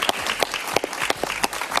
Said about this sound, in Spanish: Un aplauso para el profesor Briceño